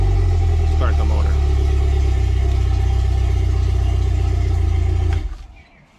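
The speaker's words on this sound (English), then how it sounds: "Now I should be able to start the motor." A boat's motor runs with a loud, steady low rumble and a faint knocking, staying even for about five seconds before cutting off into quiet.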